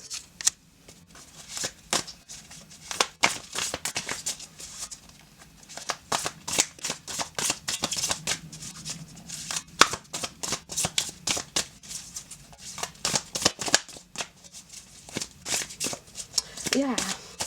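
Tarot cards are shuffled in a steady run of crisp riffling and flicking bursts, close and fairly quiet, with a voice talking softly underneath.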